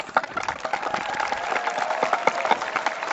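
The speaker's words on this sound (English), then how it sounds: "These wonderful people, round of applause." Crowd at a high school graduation ceremony applauding, a fairly faint, continuous wash of many hands clapping from a distance, sustained evenly throughout.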